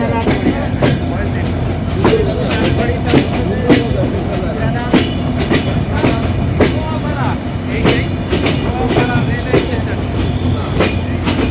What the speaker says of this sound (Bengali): আটশো পঁচিশ আট জাহানাবাদ এক্সপ্রেস যশোরের অভয়নগরের নোয়াপাড়াটি স্টপেজ দিয়ে প্রবেশ করছে